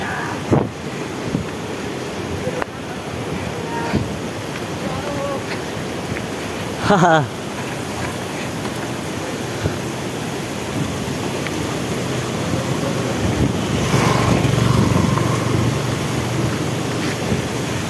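Siddha Baba waterfall near Palpa, Nepal, roaring as a steady broadband rush of water with wind buffeting the microphone, swelling louder toward the end, while voices speak briefly nearby.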